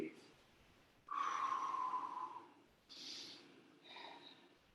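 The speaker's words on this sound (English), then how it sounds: "And breathe." Heavy breathing during a kettlebell workout comes as a few close, forceful exhales and sniffs between a trainer's spoken instructions.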